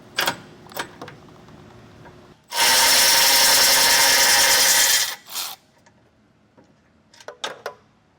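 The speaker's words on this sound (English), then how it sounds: "It's the 16 millimeter, and it's right there. So I'm going to get my socket on there." A powered socket tool spins off a 16 millimeter bolt on a 2024 Ford Maverick, one loud sustained burst of about two and a half seconds, with light clicks and handling noises before and after.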